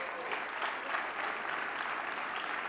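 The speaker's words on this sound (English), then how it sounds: "so let's give them a big round of applause." A live audience at an entrepreneurship competition final gives a short, steady round of applause, many hands clapping at moderate volume with no voices over it.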